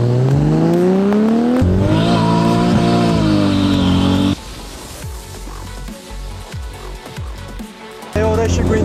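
Toyota Supra driven with manual gear shifts: a loud engine climbs in pitch, drops at each shift and climbs again, then gives way to rougher, choppier engine and road noise before a final rise near the end.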